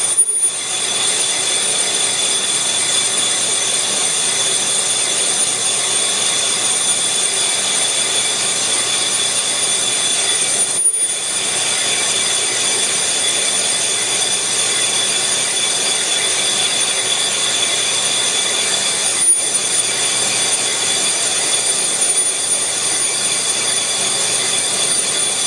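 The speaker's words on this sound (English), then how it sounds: "you're also going to be listening to the ringing of the sleeve" A lathe cutting a metal sleeve for a Lamborghini V10 engine gives a continuous high metallic ringing and grinding that drones steadily throughout, with two brief sharp breaks, loud and close with no voices.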